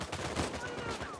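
Gunfire in the action game Uncharted 4, a brief burst of rapid shots mixed with game effects, with a voice talking over it.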